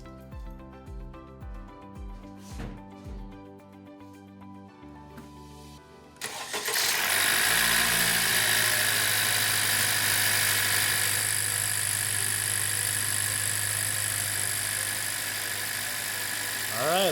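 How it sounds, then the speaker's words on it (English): A 2017 Honda Civic engine cranks with a rapid starter whir, catches and settles into a loud, steady idle close by, right after new spark plugs were fitted. "Let's start her up and see if we have any issues."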